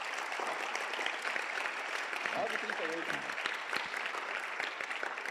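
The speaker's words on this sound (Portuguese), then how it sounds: "Uma salva de palmas aí para esses amados irmãos." A church congregation applauds in a dense, steady wash of clapping that fills the room, with a brief voice speaking over it midway.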